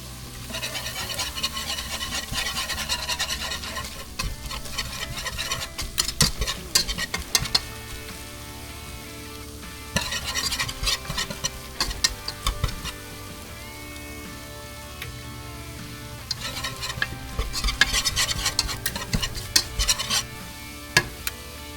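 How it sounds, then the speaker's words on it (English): Flour being stirred into a pot of clam chowder, a steady scraping stir over a soft sizzle, with repeated bursts of brisker stirring throughout. "Now we'll add our flour"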